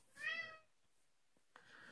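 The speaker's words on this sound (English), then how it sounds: "all you hear is this cat in the background" A cat meows once, clearly and fairly close in a quiet room, followed by a softer second cry starting near the end.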